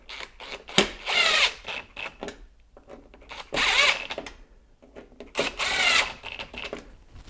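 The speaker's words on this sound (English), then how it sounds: "Then I'll go underneath and tighten up these screws." Power screwdriver driving screws into a C7 Corvette rear fascia: three loud bursts of whirring drive with short gaps, near and clear with no talk.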